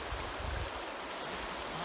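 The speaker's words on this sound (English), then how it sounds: "This is the Alexandra River." The Alexandra River in Banff National Park flowing, a continuous broad rushing roar of moving water, steady and fairly loud with no other sounds.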